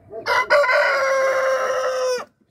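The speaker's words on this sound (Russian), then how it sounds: "Вот эти, кстати, петухи, голошейки" A naked neck rooster crows once nearby, a loud, clear call with a short opening note followed by a long sustained tone that cuts off abruptly, with quiet around it.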